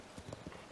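Horse hooves clip-clop in a quick, close run of three or four hollow steps in Tears of the Kingdom.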